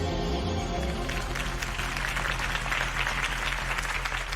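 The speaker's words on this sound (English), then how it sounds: "If only Mr. Wayne, my campaign's largest backer, could have heard that applause" Crowd applause rises from a gathering in the Batman Telltale video game, following a political campaign speech for Harvey Dent; steady, dense clapping with a murmur of voices and music underneath, filling the room.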